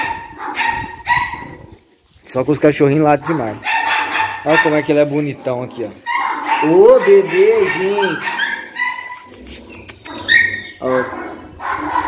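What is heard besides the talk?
puppies barking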